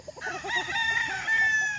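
A gamefowl rooster on a farm crows once, loud and close, in a short drawn-out call, with a faint cluck just before it.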